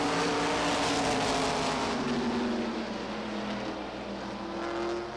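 Modified race cars roar around Beech Ridge Motor Speedway in 1990, a dense wall of engine noise with rising and falling tones as cars pass, loud and continuous without talk.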